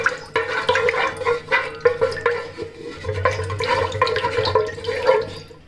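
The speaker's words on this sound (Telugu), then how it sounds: "ఇప్పుడు మనం దీన్ని ఉండలు లేకుండా కలుపుకుంటూ వాటర్ పోసుకోవాలి." Water poured into a starch mixture and stirred to remove lumps, a continuous burbling splash with rhythmic sloshing pulses, close and fairly loud, no talking.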